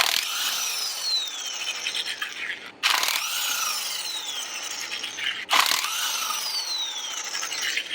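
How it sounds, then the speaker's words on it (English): An impact gun rattles lug nuts loose on a 1997–2001 Toyota Camry wheel, loud close bursts of hammering whir separated by two sharp breaks as each nut is busted free, no talk. "we're going to bust these lugs off with the impact gun"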